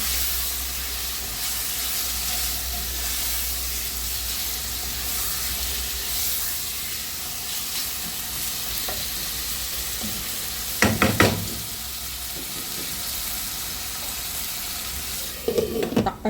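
Squid for adobo sizzles in a pan with soy sauce and pepper over high heat, a steady close hiss and crackle broken by a few sharp scraping stirs of a utensil.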